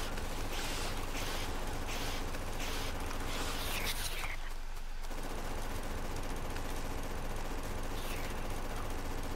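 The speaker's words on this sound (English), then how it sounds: "I'll just shoot while backing up." Rapid gunfire in the video game Factorio as the player shoots while backing away from attacking biters, a dense stream of shots that pauses briefly before resuming under a steady hum of game sound.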